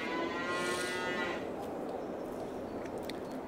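A brown and white cow gives one loud, close moo lasting about a second and a half, followed by a low background rustle.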